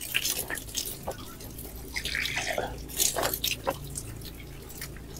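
Cold mountain spring water, apparently snowmelt, trickles and splashes near Toli Peer in Rawalakot, Azad Kashmir, a close, uneven patter of drips and small gushes, fairly quiet with no talking.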